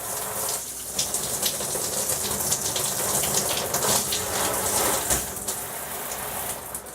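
An Oxygenics Fury RV shower head on its massage setting sprays water hard and continuously, a dense pattering hiss with slight pulsing surges, no talking.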